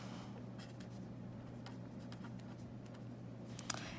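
A marker or pen writes on paper or a board, producing faint scratchy strokes in short irregular bursts over a low steady hum, with a small tap near the end.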